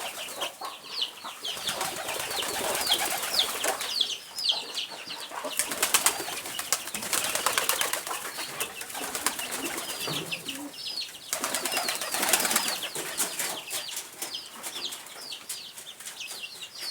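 Pigeons on a Kenyan farm where local chickens are also kept coo and flap their wings in repeated bursts of fluttering over a steady bed of bird calls, close and moderately loud, with no talking.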